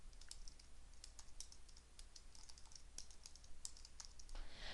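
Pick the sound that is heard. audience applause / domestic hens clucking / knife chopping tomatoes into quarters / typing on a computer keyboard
typing on a computer keyboard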